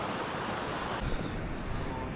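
The Propok River at Torean, on the Sembalun–Torean trail of Mount Rinjani, rushes in a dense, continuous roar of flowing water, steady and close throughout with no talking.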